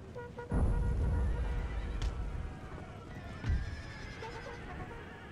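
Cavalry horses neigh and whinny on a battlefield in the strategy game Napoleon: Total War, with a loud burst of neighing near the start and another shorter whinny partway through, over a steady din of battle.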